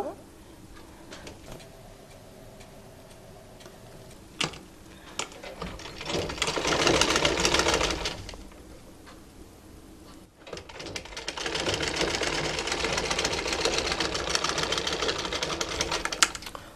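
Sewing machine running in two stretches while stitching the side seam of a raglan-sleeve umbrella baby frock, a steady mechanical whirr that rises, pauses, then resumes longer, with someone talking quietly between runs.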